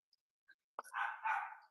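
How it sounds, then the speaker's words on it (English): A dog barks once in the distance, a brief faint bark after a couple of tiny clicks in an otherwise quiet outdoor setting. "Every time I come out to do this, is there's a dog barking or there's somebody mowing their yard."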